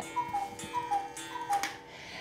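A cuckoo clock with its weights and pendulum just refitted ticks in a steady, even rhythm, quiet and close, alone with no voices.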